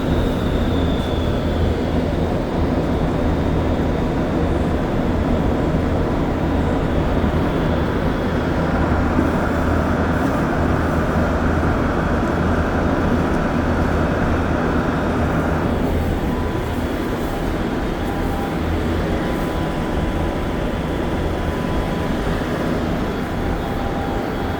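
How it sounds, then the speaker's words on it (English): Montreal STM Green Line metro train in service at night, a loud, steady rumble and hum inside the car holding for the whole stretch, with a faint high whine early on and no voices. "So this train's probably going to wait for the train in the opposite direction like it usually does at nighttime when it's the last train in service."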